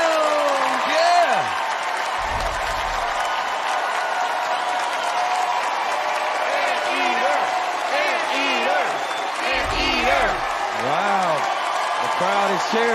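A studio audience at The Masked Singer cheers and applauds for the Anteater performer, with sustained dense clapping and shouting throughout and voices speaking over the crowd.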